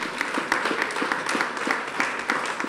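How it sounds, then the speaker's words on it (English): Audience applause at a government information service event, a dense wash of many hands clapping steadily for a few seconds, moderately distant. "I want to hear you a resounding round of applause for who we are"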